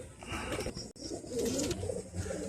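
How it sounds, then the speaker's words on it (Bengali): A female Sulemani Kagzi pigeon coos in a series of soft, low, throaty calls close by, with faint rustling and background noise and no speech. "এটা সুলেমানি কাগজি, ঠিক আছে, মাদি পায়রা"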